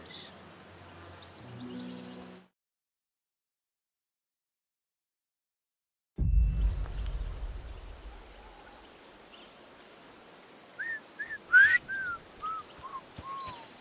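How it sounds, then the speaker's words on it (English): A character's tuneful whistling on a country road in the Kingdom Come Deliverance II video game, a short falling-and-rising melody heard near and fairly clear over quiet outdoor ambience with birdsong and a stream, after a brief silence. "Your whistling is getting on my fucking nerves the whole way."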